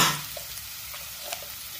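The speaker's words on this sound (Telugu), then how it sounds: "ఒక చెంచా అల్లం వెల్లుల్లి పేస్ట్ వేసుకుందాం. కొంచెం వేగిన తర్వాత" Ginger garlic paste frying in a pan for a phool makhana masala curry, a steady close sizzle with light stirring scrapes, brief and alone without talk.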